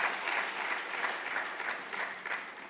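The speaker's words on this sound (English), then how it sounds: "Please, can we just clap for her?" An audience claps steadily for a few seconds at a meeting, a moderately loud, even patter that fades slightly toward the end.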